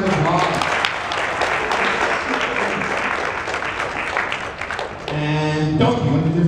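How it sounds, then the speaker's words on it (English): Audience applause at an anime convention voice acting workshop, a sustained burst of clapping from a crowd that fades before a voice speaks over it at the end. "give Ivy a round of applause"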